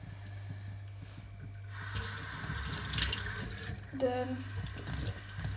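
Running tap water splashes into a sink while soapy glasses lenses are rinsed, a steady close rush of water that starts partway in, under a low hum and brief talk.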